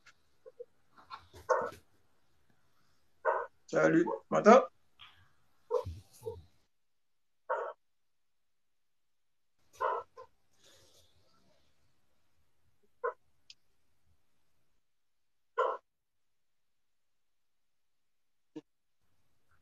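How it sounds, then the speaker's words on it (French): A dog barks in intermittent separate bursts through the background, moderately close, while a person speaks briefly over a call. "Est-ce que vous entendez le chien?"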